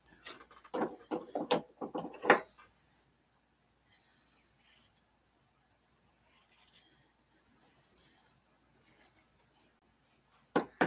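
Scissors snip through quilt fabric pieces in a series of close, crisp cutting strokes, clustered early and then scattered more sparsely with quiet gaps between.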